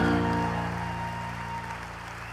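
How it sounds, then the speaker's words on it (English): Audience applause for the National Commander at an American Legion gathering, a dense wash of clapping that starts loud and slowly tapers over a couple of seconds, heard without speech. "How about another big round of applause for the National Commander"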